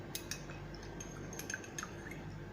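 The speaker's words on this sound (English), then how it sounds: "So I'm going to put this in this water and I'm going to stir and stir." Turmeric powder is stirred into a glass of water with a spoon, giving faint, scattered clinks and light liquid swishes over a steady background hiss.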